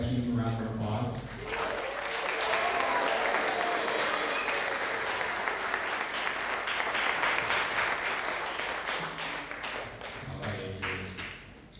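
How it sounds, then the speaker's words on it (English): Audience at a school world percussion spring concert breaks into a sustained round of applause, dense clapping building after a spoken introduction and tapering near the end, with a voice talking at the start and close. "Give them a round of applause"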